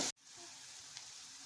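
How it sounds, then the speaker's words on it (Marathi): Chopped onion sautés in a hot pan, giving a soft, steady sizzle and hiss that starts after a brief cut and continues quietly. "तर इकडं बघा कांदा परततो"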